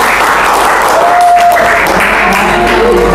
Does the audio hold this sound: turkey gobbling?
no